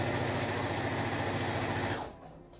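A sewing machine stitches an angel wing flag in a fast, continuous whirring run of needle strokes that is close and loud, then slows and stops near the end, leaving faint hum.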